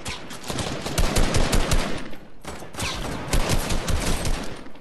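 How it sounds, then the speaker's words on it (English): Rapid automatic gunfire in a shooter video game, two long loud bursts of close shots with a short break between them, dense and unbroken. "Where am I getting shot from, dude?"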